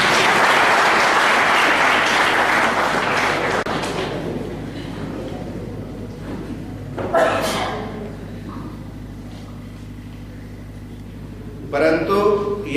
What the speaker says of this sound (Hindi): इसके लिए तालियां तो बजा दो